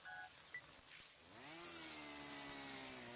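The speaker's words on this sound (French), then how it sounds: "Oh, j'entends une tronçonneuse." Chainsaw revving in the video game Märchen Forest: Mylne and the Forest Gift, a steady buzzing motor that rises in pitch after a short tone cue and holds for several seconds.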